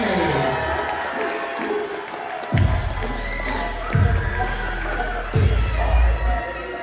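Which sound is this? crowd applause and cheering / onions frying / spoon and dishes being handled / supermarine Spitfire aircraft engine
crowd applause and cheering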